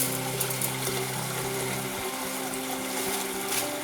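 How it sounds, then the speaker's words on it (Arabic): Tap water runs steadily into a pot of lentils being washed in a home kitchen, a continuous close rushing with a faint mechanical hum underneath and no speech. "هفتح الميه كده واحط، انا جايبه ربع عدس احطه اهو"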